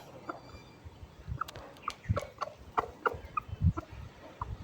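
Chickens on a farm clucking in short, scattered bursts at close range, several calls overlapping over a quiet background.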